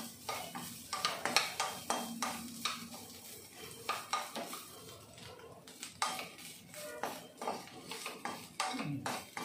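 Grated coconut is sautéed in ghee in a pan for thavala vadai batter, with brisk repeated scraping and clattering of a spoon against the pan over a soft sizzle, fairly quiet and close.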